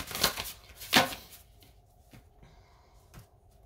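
Tarot cards being shuffled up close, two sharp riffling bursts early on followed by softer taps and card handling in a quiet room.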